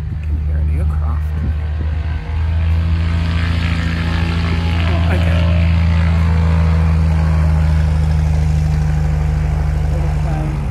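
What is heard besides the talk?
small propeller aircraft taking off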